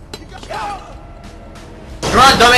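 Elevator machinery in the video game Splinter Cell: Conviction clanks and creaks, ending in a loud mechanical burst.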